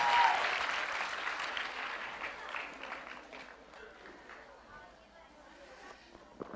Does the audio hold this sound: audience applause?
yes